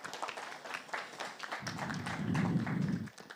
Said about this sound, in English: Well, round of applause.